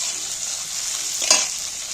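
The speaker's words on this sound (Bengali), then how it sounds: "টমেটো আর পেঁয়াজ দেখছো কতটা ভাজা ভাজা হয়ে গেছে" Tomato and onion fry in oil, giving a steady bright sizzling hiss throughout with one brief louder stir-scrape near the middle, close and alone without voices.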